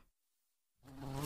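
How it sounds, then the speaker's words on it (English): A cartoon giant bee buzzes in loudly after a brief silence, a sudden close drone that swells and holds to the end. "Oh no, a giant bee!"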